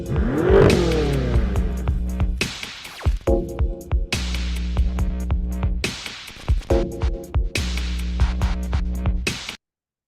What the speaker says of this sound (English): you'll hear that the sound of the car is heard much before the car is fully visible